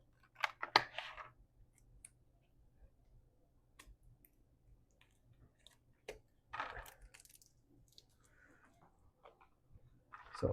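Scotch tape being pulled and handled on the packaging of a McFarlane Superman action figure: sparse, close crinkles and sharp clicks scattered across quiet stretches, with a louder cluster of crackles near the start and again toward the end.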